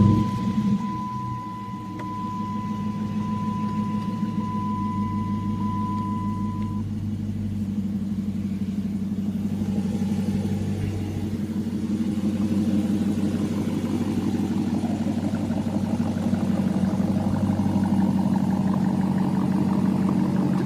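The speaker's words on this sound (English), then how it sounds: "Start up, let you hear this Hemi." A 2013 Dodge Challenger R/T Plus with a Hemi V8 and 6-speed idles with a deep, steady low rumble that swells into louder revving toward the end, with no talking.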